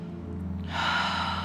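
Deep breath drawn during a slow yoga stretch for the legs and glutes, a single close airy inhale swelling in the second half, with no talk.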